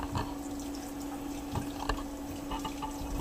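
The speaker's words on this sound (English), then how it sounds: "we're going to soak it in a little cold water in the sink" Cold water runs into a kitchen sink to soak dried beef, a steady close stream with a few soft splashes and no speech.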